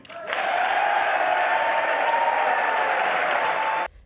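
Steady, dense applause from a large crowd at a presidential speech to Congress, rising quickly and holding for several seconds before stopping abruptly.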